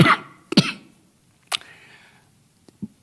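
Scattered coughs and throat clearing come from a congregation during a church sermon: two sharp bursts at the start, another a second later, then a faint low cough near the end, with quiet gaps between.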